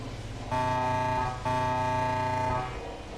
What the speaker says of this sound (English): Yes, it is an air horn.